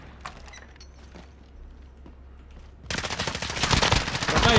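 Video game gunfire starts abruptly partway through, turning a quiet stretch with a few faint clicks into loud, sustained rapid automatic shooting that keeps building.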